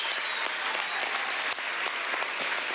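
A crowd at a teachers' graduation ceremony breaks into sustained, dense applause for new student leaders, loud and steady throughout with no pauses.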